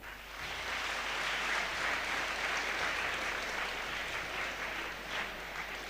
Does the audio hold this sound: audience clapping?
yes